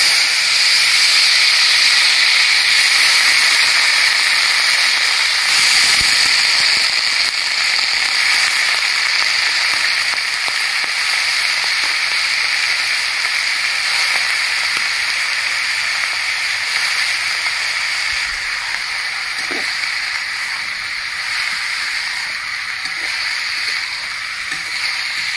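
Cut bottle gourd sizzles in hot oil, a loud, dense, steady hiss that holds for the whole stretch with only slight ups and downs and no talking over it.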